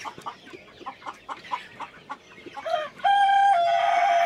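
Darag chickens cluck in a quick run of short, steady notes, then a Darag rooster crows loudly, one long sustained call that holds to the end, close and with no talk.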